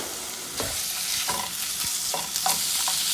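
Half a pound of ground beef frying in olive oil over medium heat in a pan, a steady close sizzle broken by several scraping stirs of a utensil, with no talking.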